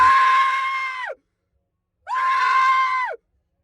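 People scream into a Blumhouse horror scream box at a convention, two loud sustained screams about a second each, separated by a short silence.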